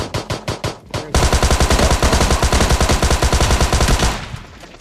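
Pistol gunfire in PUBG Mobile Lite: a few spaced loud shots, then a long rapid burst of closely repeated cracks lasting about three seconds before cutting off.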